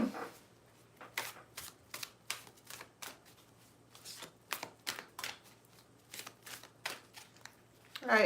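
A tarot deck is shuffled in quick, irregular bursts of crisp riffling and slapping, close and fairly loud, with short pauses between the bursts.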